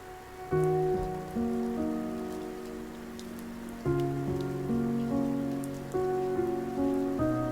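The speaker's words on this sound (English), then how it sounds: "Rain sounds epic." Rain ambience in the video game Doki Doki Literature Club: a steady, soft patter runs continuously beneath a slow melody of sustained piano-like notes.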